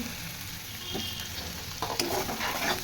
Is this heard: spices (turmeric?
yes